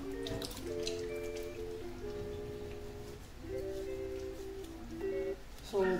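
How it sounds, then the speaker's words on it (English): Warm tap water runs over a person's hands during a handwashing routine, a steady patter of splashing and dripping over a tonal background layer that comes and goes. "And wet your hands with warm water."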